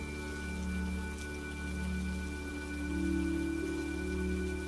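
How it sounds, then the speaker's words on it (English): Steady rainfall surrounds the listener in a calm, even wash of drops on surfaces, soft and continuous with a low, constant hum beneath, swelling slightly toward the end, no voices. "as you listen to the sounds of the rain all around you"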